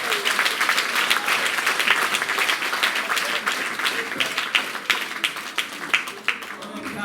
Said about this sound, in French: Nous applaudissons tout le monde qui l'a avec bon cœur.